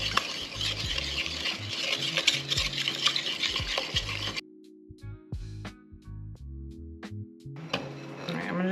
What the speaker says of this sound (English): I think I'm gonna mix this together and then put the flour in